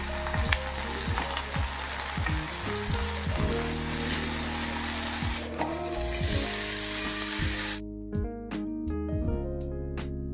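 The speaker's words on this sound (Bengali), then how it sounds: "মাছটা ভাজা হচ্ছে" Pieces of old fish frying in a pan with bay leaf and whole garam masala, a loud close crackling sizzle that runs continuously, with a musical tune playing underneath.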